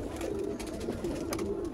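Black-faced Sialkoti pigeons of the Sheikh line cooing softly and steadily at close range, a low repeated rolling coo over faint background ambience.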